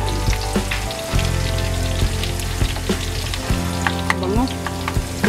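Garlic sizzles steadily in hot oil with onion for kare-kare, close and continuous, with occasional clinks and stirring scrapes in the pan.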